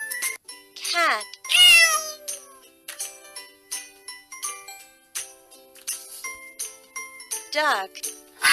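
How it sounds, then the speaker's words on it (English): Cartoon cat meowing several times amid tinkling chime jingles in a children's educational puzzle game, with a spoken voice between the loud, close meows. "Cat."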